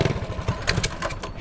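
A mini bike's small engine idles close by in a steady, rough low putter, with a few brief sharper bursts partway through.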